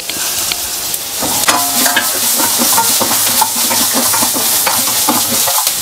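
Ginger and garlic fry in a hot pan with cumin and cashews, giving a continuous loud sizzle with scattered stirring scrapes and spatters, no voices.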